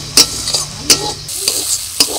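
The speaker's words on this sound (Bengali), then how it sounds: "মশলাটাকে এবার একটু জল দিয়ে কষিয়ে নেব।" Ginger, cumin, turmeric and chili spice paste sizzles loudly in a pan, with a steady frying hiss broken by several sharp scrapes of a stirring spatula.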